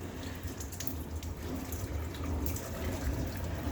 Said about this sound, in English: So we're just going to wash these up real quick.